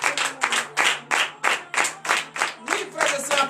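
A congregation at a Thursday morning prayer service in a temple in Benin claps in a steady, rhythmic beat of loud, close hand claps while voices call out acclamations.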